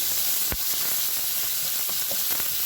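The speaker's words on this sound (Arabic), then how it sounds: "كنبقاو نقليوها مزيان بديك الزيت اللي عملنا وديك الاقامه" Marinated chicken pieces frying in hot oil, giving a loud, steady sizzle and hiss throughout with a few brief crackles and pops.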